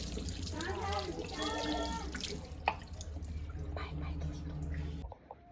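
Tap water running and splashing while someone is being bathed, a steady close wash of water with drips, soft voices talking over it, before the flow stops abruptly near the end.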